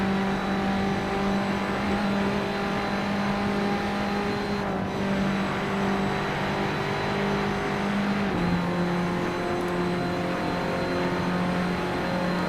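Car engine in Assetto Corsa on the Nordschleife, a steady loud drone with sustained harmonic tones that shift pitch as the car accelerates and changes gear, running continuously with no voices.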